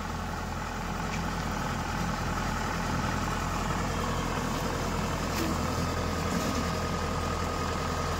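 A Swaraj 744 FE 4WD tractor with a trolley eases slowly down a drop of about four feet. Its diesel engine gives a steady, loud, low drone with a continuous rumble.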